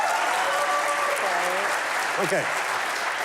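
Applause from an audience at the Mesa Arts Center, a dense steady clapping throughout, with a voice briefly speaking over it.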